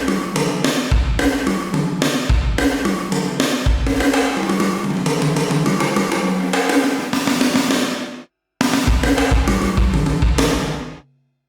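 Yamaha DTX8/DTX10 electronic drum module kit played with the ambience modifier turned up, giving a busy groove of kicks, snares and cymbals with a roomy wash, loud and continuous, one brief pause near the end.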